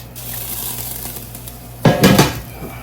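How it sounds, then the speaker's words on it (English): Broth poured into a pot of shredded gumbo greens and stirred, a brief liquid splash and clatter near the end after a quiet, low hum. "we're going to go ahead, add that broth in there. Mix it in real good."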